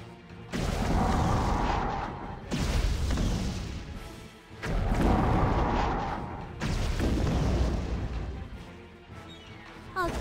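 Heavy artillery cannon fire in the video game Abyss Horizon: four loud, booming blasts spaced roughly two seconds apart, each with a rumbling tail and mechanical loading clanks between shots.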